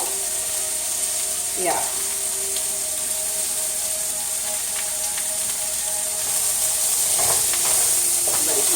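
Gnocchi and vegetables fry in a pan with a steady, close sizzle and high hiss, broken by occasional scrapes of stirring and a brief voice.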